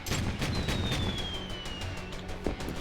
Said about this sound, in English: How about some explosions?